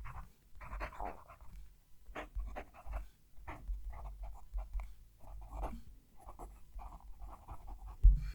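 A TWSBI fountain pen with a stiff nib scratches across paper in quick irregular strokes, close and fairly loud, with a dog panting and moving about nearby.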